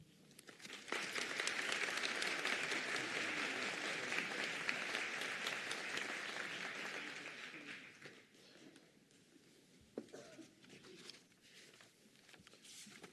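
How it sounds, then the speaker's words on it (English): Graduation ceremony audience applauding, a dense burst of clapping that swells quickly, holds for several seconds, then thins out into scattered claps and faint room noise. "Can we give her another round of applause?"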